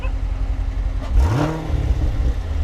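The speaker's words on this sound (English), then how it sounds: "we're gonna do a little rev right here. Make sure you're in park first." A Nissan Sentra SV engine idles in park, then a single quick rev climbs and falls back, steady and fairly close with no talking.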